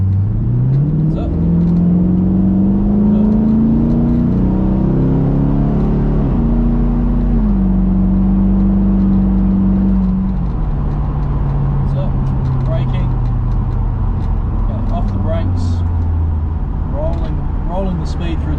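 A Chevrolet Camaro V8 accelerates hard on a race track, its loud engine note rising through the revs and shifting gears, close and steady throughout, with a voice talking over it.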